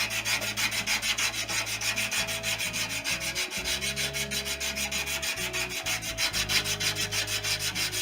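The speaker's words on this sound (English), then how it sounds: "Just a thin strip of emery, and it's a case of don't put too much tension on." Thin strip of emery cloth rubbed back and forth to round the edge of a plywood rib, a close, steady rhythmic scraping with quick even strokes and no voice.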